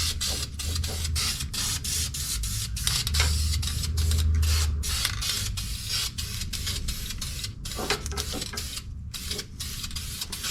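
A spray gun applying a heavier third coat of paint in a car's engine bay, a steady close hiss broken by short gaps between passes.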